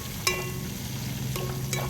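Capsicum pieces frying in a pan with a steady, moderate sizzle and a few brief stirring scrapes, heard alone with no talk.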